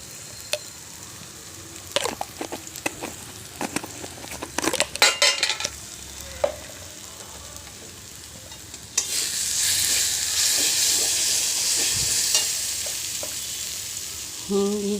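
Mutton frying in a pan with Kashmiri chili powder, with clatters and scrapes of a spoon stirring, then a louder, steady hissing sizzle for the rest of the time.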